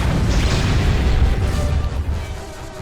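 A bomb detonates in the PlayStation 2 game War of the Monsters, giving a loud, heavy low-end blast that rumbles on for a couple of seconds before slowly fading.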